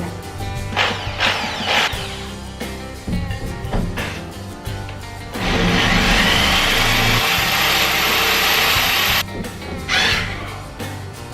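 A hammer drill for concrete, switched to its non-impact setting for wood, whirs steadily for about four seconds, close and loud, amid lighter clicks and handling noises before and after.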